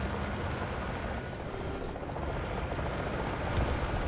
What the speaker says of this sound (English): Oh, I hear a chopper low.